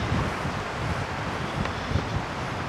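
Strong wind sweeps across a lakeside beach at a campground in Hälsingland, buffeting the microphone with a constant roar and low rumbling gusts, mixed with faint rustling.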